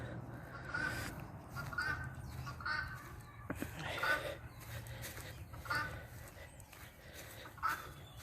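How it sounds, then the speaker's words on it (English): A bird gives repeated hoarse, crow-like calls at a moderate distance, faint and spaced about a second apart, with a person talking at times. "Damn bird."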